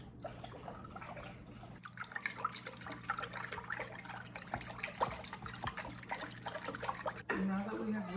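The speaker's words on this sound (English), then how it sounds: "So we're just gonna whisk that together." Water and sourdough ingredients are whisked together in a bowl, giving a quiet, steady run of wet sloshing and light clicking strokes that is faint and close.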